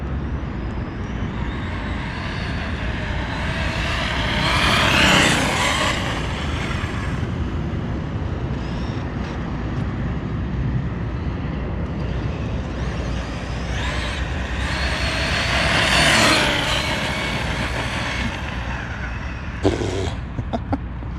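An Arrma Nero 6S BLX brushless RC car makes two full-throttle speed passes, each a high-pitched electric whine swelling as it screams by and fading away, over steady outdoor wind noise.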